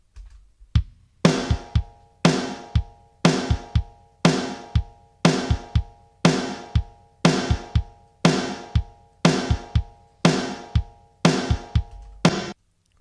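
A snare drum strikes in a steady repeating pattern, each hit followed by a short, bright burst of reverb that cuts off abruptly. Loud and up close, no voices.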